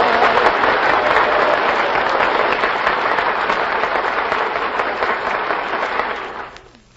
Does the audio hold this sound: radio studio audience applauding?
yes